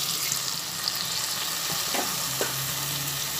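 Water going into a sizzling katla fish curry with orange juice, heard as a loud, continuous hiss and bubbling close up, with a few faint clinks and stirs through the short stretch.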